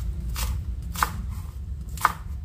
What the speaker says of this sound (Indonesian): Sekarang saya akan rajang daun bawang untuk taburannya